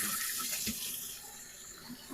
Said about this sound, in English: now I'm going to drain our soapy water